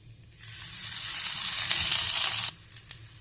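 Black peppercorns, cloves, cinnamon, green cardamom and torn bay leaf hit hot oil in a pan for butter chicken, bursting into a loud, bright hiss that swells for two seconds and then drops away suddenly.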